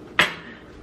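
A butter knife cuts fruit for a breakfast salad, giving one sharp clink against a hard surface that rings briefly and fades into a quiet room.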